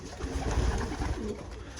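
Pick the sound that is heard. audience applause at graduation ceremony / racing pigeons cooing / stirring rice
racing pigeons cooing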